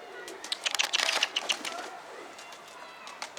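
Pigeons shut inside a coop make soft cooing calls and scattered fluttering and scratching, busiest early on and then sparser, fairly faint and close.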